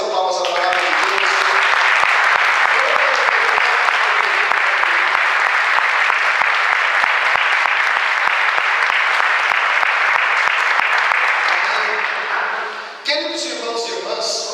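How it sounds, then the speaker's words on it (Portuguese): A Catholic congregation gives a long round of applause at a church gathering, a dense, steady clapping that fills most of the moment, then fades out as voices take over near the end. "Vamos dar uma salva de palmas à palavra de Deus."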